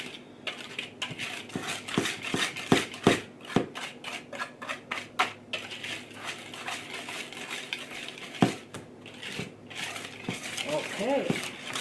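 Wet ingredients folded into banana bread batter in a mixing bowl, a spoon or spatula scraping and clinking against the bowl in soft irregular strokes, close but quiet, with a voice speaking briefly near the end.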